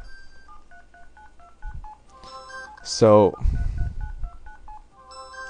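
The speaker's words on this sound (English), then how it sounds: "it's really hard to concentrate while my phone's going beep, beep, beep" Short electronic beeps from an LG Rumor LG260 phone sound in a repeating pattern, with a brief burst of speech breaking in midway before the beeping resumes.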